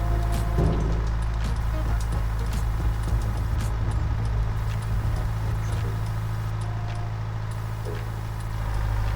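A two-ton excavator's engine in Farming Simulator 22 drones steadily and loudly throughout, a constant low rumble with faint clanks over it.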